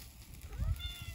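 A cat meows close by, a short low cry rising to a brief higher call near the end, heard outdoors with faint background noise and no talking.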